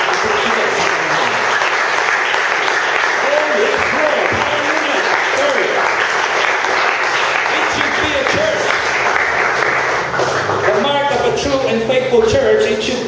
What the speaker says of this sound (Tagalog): Isang masigabong palakpak.